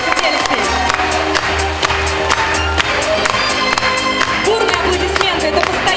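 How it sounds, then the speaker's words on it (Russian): Audience at a student spring concert applauds and cheers continuously, dense clapping with whoops throughout, loud and close, with a low musical hum underneath. "Бурные аплодисменты, это постоянный зритель всех студенческих фестивалей"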